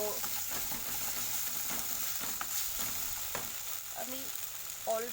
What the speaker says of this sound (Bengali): দেখো একটু ভাজা ভাজা করে নেব।